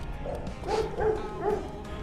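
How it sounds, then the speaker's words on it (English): A dog gives three quick, moderately loud barks in a row against a low background hum. "You hear the dog who's barking"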